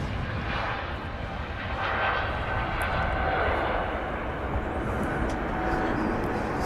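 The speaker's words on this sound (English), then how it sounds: "A321neo delivered to SAS back in December 2019" An SAS Airbus A321neo in a new colour scheme takes off lightly loaded from Manchester Airport, bound for Oslo, its jet engines a steady broad roar that holds without pause.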